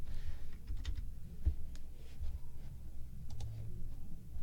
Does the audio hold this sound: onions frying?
no